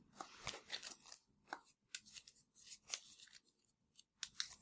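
Magic: The Gathering cards are shuffled during a Legacy game, giving a series of crisp riffling and snapping bursts, close and fairly quiet, with short pauses between them.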